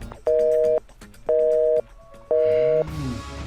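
Telephone line tone heard while calling a bank: three steady, evenly spaced electronic beeps about half a second each, with quiet gaps between them, followed by a short rustle at the end.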